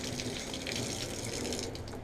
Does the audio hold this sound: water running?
yes